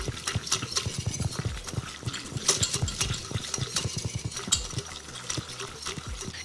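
Butter and flour stirred constantly in a pan for a roux, giving quick, rhythmic tapping and scraping of a utensil against the pan, close up and steady with no talking.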